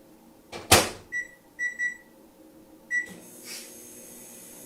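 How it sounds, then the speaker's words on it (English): Microwave oven melting chocolate chips on high: a door thump followed by a series of short electronic keypad beeps and a start tone, then the low hum of the oven beginning to run. "So I'm gonna stick these in the microwave for about a minute on high"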